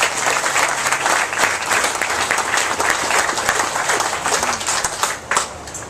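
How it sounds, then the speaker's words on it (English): An audience at a senator's town visit breaks into loud, continuous applause, with individual claps crackling through the steady roar. "Give him a round of applause."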